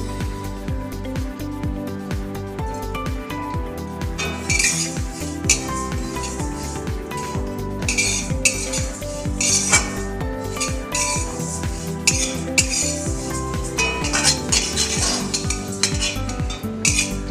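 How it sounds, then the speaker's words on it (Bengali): Sesame seeds roasting in a pan while a spoon stirs and scrapes them, rhythmic metallic clinks and scraping strokes repeating steadily throughout, with no talk. "তিলটা আমার ভাজা হয়ে গেছে"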